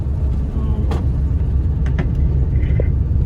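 Bus engine rumbling while riding near Al Ula, Saudi Arabia, a steady low drone with road noise and a few faint clicks and voices.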